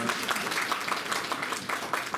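An audience at a government college ceremony in Chamba claps steadily, a brisk, continuous round of applause that stays even and moderately loud for a couple of seconds.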